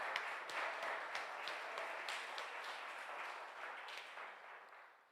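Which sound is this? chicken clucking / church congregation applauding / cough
church congregation applauding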